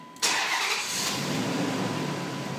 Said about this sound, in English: a couple seconds later, the car starts